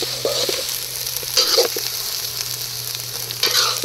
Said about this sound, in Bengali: আমাদের মশলা কষানো হয়ে গেছে